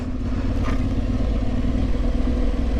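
An Aprilia Tuareg 660 motorcycle engine idles steadily at low revs, a constant low rumble with a faint ticking texture and no rise in speed.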